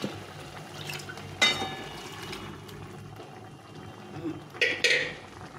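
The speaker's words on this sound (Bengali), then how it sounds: "তো আমি প্রেসার কুকার ধুয়ে একটু জল দিয়ে দিই।" Water poured into a freshly washed pressure cooker in a home kitchen, a brief splashing pour with a couple of metallic clinks, moderately close with light background noise.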